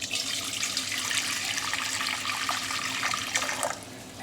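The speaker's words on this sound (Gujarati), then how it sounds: "હવે તેની અંદર આપણે ગરમ પાણી લઈશું" Hot water streams into a pot for dhokla batter, a steady splashing pour that carries on for several seconds before tapering off near the end.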